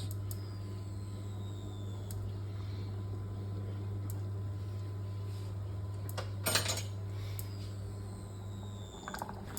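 Metal pot and utensils clink and clatter while fresh pappardelle cooks in boiling water, with a steady low hum of a stove or hood running underneath throughout and a brief louder rattle near the middle.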